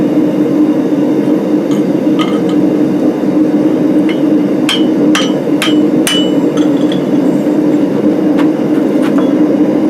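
A hammer forging a tomahawk from 4140 square steel bar, with a handful of sharp, ringing strikes clustered mid-way over a constant loud droning hum.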